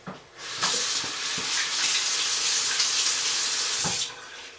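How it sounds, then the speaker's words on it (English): Water runs from a tap onto a handmade soap bar with a steady hiss for several seconds. A few light knocks sound at the start and near the end, then the flow stops abruptly. "So let me get a little bit of water on this."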